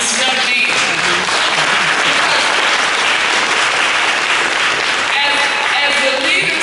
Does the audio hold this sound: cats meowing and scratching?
no